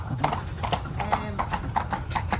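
Horse hooves clip-clop in a steady rhythm while pulling a carriage on a demesne estate ride, close and clear, with a person talking over them throughout.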